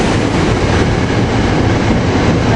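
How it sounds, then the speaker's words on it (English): SEPTA regional train 1528 with Silverliner railcars departing 30th Street Station in Philadelphia, a loud continuous roar of wheels and rolling stock close by, with rhythmic clatter and no voices. "Here we got the 845 train 1528 to Market East with Railcars"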